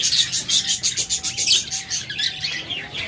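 Pet lovebirds or cockatiels in cages give a dense chorus of rapid, piercing chirps and squawks in quick bursts, close and loud, with a faint steady tone running underneath.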